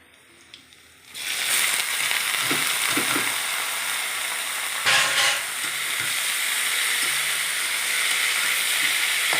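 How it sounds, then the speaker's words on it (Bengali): Greens hit hot oil with dried red chilli, chopped onion and garlic, bursting into a loud hiss after a second of quiet, then a steady close sizzle broken by a few clinks and a brief surge midway. "শুকনো লঙ্কা, পেঁয়াজ কুচি, রসুন কুচি দিয়ে শাকটা ভাজা হচ্ছে"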